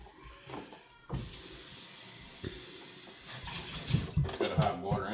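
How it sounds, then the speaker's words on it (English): Water gushes and swirls with a steady hiss, sloshing around inside a plastic fermenter being rinsed for hard cider, and a voice speaks briefly near the end. "You can even do a bit more water and rinse it again."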